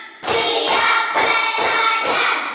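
Classroom ice-breaker clapping game: five steady rounds of group hand clapping follow one another at a brisk, even pace, loud and near, each round a short flurry of many hands.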